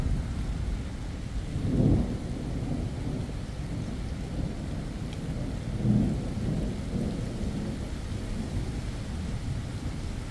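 A strong summer thunderstorm passing directly overhead, with steady heavy rain hissing throughout. Two deep rumbling thunder rolls swell and fade, one near the start and another midway, with no talking.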